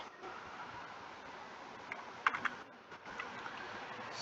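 A computer keyboard gives faint, sparse clicks that cluster briefly midway, against a soft, steady room hiss.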